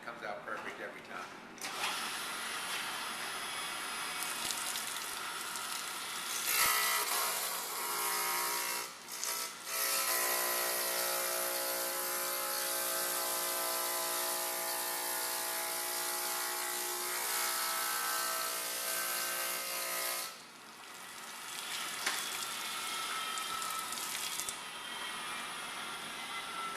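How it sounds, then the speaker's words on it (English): Machine polishing a granite countertop edge, a steady, loud, high-pitched whining hum that runs for long stretches with brief dips and restarts, heard close with no talk over it. "And then we come back and we polish it with the machine, and it comes out perfect every time."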